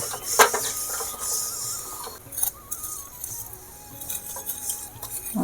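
A metal spatula stirs slowly in a kadai on heat, giving soft scraping strokes with a sharp clink early on and light metallic rattles, close and fairly quiet.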